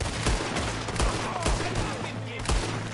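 Gunfire in the Western video game Red Dead Redemption 2: several sharp shots spaced irregularly across a busy battle soundscape, loud and close, with faint background talk.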